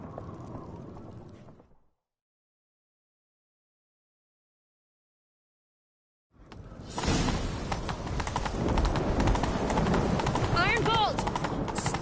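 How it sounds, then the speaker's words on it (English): Horses gallop in The Witcher 3 with dense, rapid hoofbeats over a busy game soundscape, loud and continuous after a brief stretch of sound and then silence. "Grab a horse, we'll chase him down."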